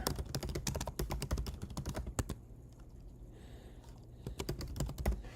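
Rapid typing on a computer keyboard, close and crisp clicks in quick bursts with a short pause in the middle before more keystrokes.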